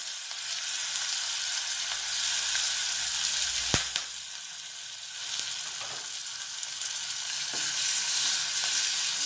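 Curry leaves and coriander sizzle in hot tempering oil for a chayote raita, a steady close hiss with crackles and one sharp pop partway through.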